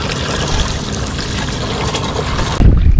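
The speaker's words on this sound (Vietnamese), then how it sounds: "Còn mấy canh nước này mình chảy giọt là mình có canh rồi nha." Water trickling and dripping steadily into a 30-litre bucket of snail-killing mix on a Vietnamese farm, a continuous close, wet splashing hiss that swells into a heavier gush near the end.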